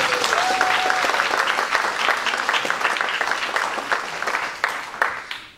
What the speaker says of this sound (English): I wonder if we can give him a round of applause for coming all the way here